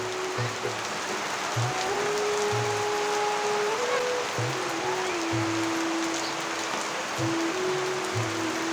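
Heavy rain during a village storm pours steadily on surfaces, a dense continuous hiss close by, with low intermittent thumps beneath and no talk.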